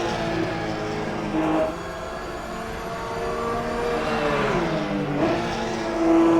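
A race car engine in a sim racing game drones steadily through a last lap, pitch rising and falling with shifts and throttle, loud and continuous with no talk.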